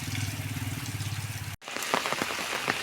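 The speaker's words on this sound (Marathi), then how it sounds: "आता पाऊस कंटिन्यू यायला लागला आहे" Rain falls steadily on a surface with a continuous hiss and patter, broken by a brief cut midway, then resumes with a slightly different texture of scattered drops.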